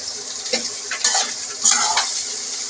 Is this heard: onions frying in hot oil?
yes